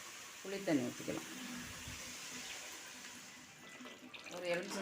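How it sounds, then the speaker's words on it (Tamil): Tamarind water poured into a pan of sautéed bitter gourd and spices for Tamil puli kulambu, a soft sizzle and splash rising under a woman's speech, then settling into quiet bubbling. "புளி தண்ணி ஊற்றிக்கலாம்."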